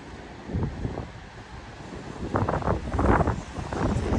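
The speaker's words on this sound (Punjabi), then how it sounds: "ਹਵਾ ਬਹੁਤ ਤੇਜ਼ ਚੱਲਦੀ ਆ" Strong wind gusts across a microphone high in the mountains of Lahaul and Spiti, a rough low rumble that surges and buffets in uneven bursts, loud and close, with no voices.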